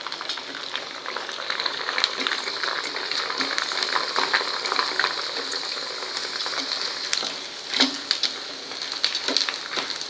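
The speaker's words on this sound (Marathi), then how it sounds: "आता मी आणखी साबुदाणे त्यात घालणार आहे. गॅस मध्यम करते बारीक केलेला आणि हे छान तळून घेते." Sago pearls (sabudana) frying in hot oil over a medium flame give a steady, dense crackling sizzle that runs evenly throughout, with a few louder pops and bubbling bursts near the end.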